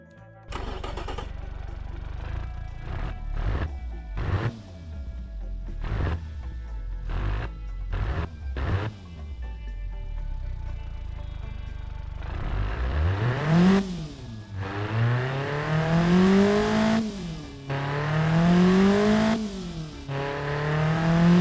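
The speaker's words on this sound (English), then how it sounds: "It sounds like a racing engine." A stock car engine tuned to rev to 7,000 RPM cranks in several rhythmic starter bursts, catches, then revs hard again and again with rising and falling howls, loud and close like a racing engine.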